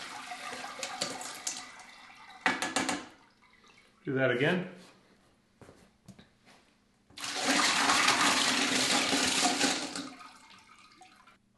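Water dumped from a container into a sink, a loud rushing pour lasting several seconds near the end, after scattered splashes and a short spoken remark.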